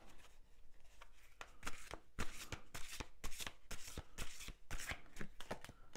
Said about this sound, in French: Je vais commencer par mettre quelques cartes du tarot